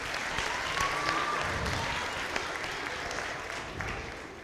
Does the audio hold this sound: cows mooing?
no